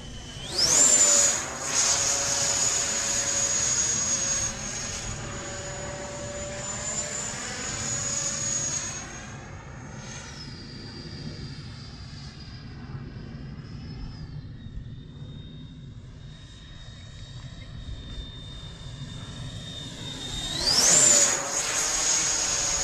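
A model Viggen jet flying flat spins without thrust vectoring, its loud engine whine holding steady, then sliding down and rising again in pitch as the aircraft pirouettes close by.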